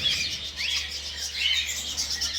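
Many birds chirp in a quick cluster of high, bright tweets that overlap and repeat over about two seconds at moderate distance, against a low background hum, with no talk.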